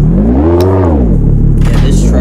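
Car engine in the Car Dealership Tycoon video game revs loudly, its pitch rising and falling in a smooth sweep and then climbing again, with a voice faintly under it.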